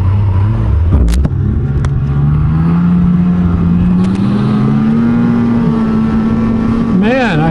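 Snowmobile engine running close by with a steady droning rumble that slowly rises in pitch, then revs sharply up and down near the end, with a few clicks and knocks.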